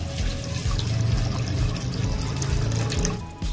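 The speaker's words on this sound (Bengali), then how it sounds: "জল দিয়ে দিলাম।" Water pours and splashes steadily into a pan of chana dal being set to boil in a home kitchen. The stream is close and continuous for a few seconds, with no talk.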